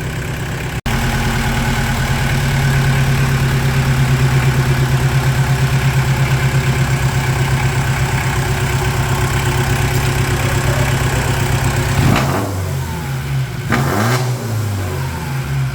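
A VW Rabbit diesel pickup idles with a steady, close, rattling clatter after its fuel screw is turned up, then revs briefly twice near the end before settling back.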